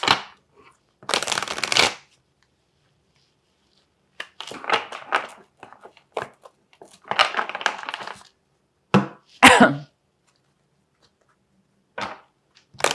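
Tarot cards shuffled and drawn during a love reading: several bursts of dry papery riffling and slapping, close and fairly loud, separated by quiet gaps, with a few sharper single card snaps near the end and no talking.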